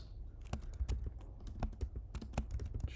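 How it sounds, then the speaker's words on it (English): Brisk typing on a computer keyboard, irregular clusters of sharp key clicks and clacks close up in a quiet room, with no voices. "I will be typing books."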